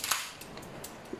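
A solid steel pellet handgun is cocked with a sharp metallic snap followed by a few fainter clicks, quiet and close in a calm room with no talking.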